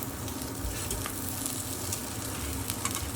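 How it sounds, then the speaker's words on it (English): A birria taco filled with mince, cheese and coriander sizzles loudly in a hot pan, a dense crackling fry with no voices over it. "we're just going to let that cook for a couple of more seconds, but that is nice and crispy already"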